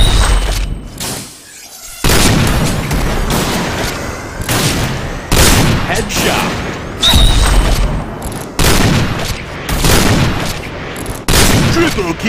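Cheytac M200 sniper rifle fire in the game Point Blank: loud, sharp shots and booming game effects in rapid succession over dense action noise, about a dozen bursts across the stretch.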